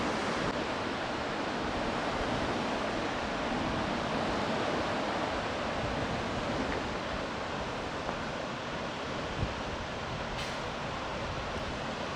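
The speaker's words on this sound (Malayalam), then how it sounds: "അത് സ്ട്രീമാണ് അരുവി" Steady rushing of a flowing stream near Lower Huia Dam in West Auckland, continuous and full throughout with no pauses, tumbling over stones.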